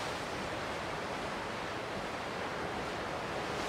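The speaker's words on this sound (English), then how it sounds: "I can't see the horizon, it's just all fog. And these big waves rolling in." Big ocean waves roll in on a foggy, stormy Maine coast, a loud, continuous wash of surf and wind noise with no breaks, close and all-enveloping.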